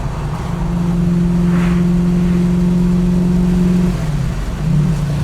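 A 1967 Ford Mustang fastback under way on the road, its engine a loud, steady, close hum with strong low tones, easing off near the end.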